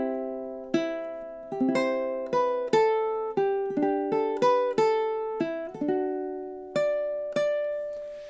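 A ukulele picks measures 10 and 11 of the Star Wars melody note by note, bright plucked tones ringing in a moderate rhythm with a few quick pairs, close and clear with no talking.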